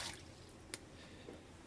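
Brewing coffee drips through a filter with many holes, a quiet trickle punctuated by a few faint, isolated drips in an otherwise still room.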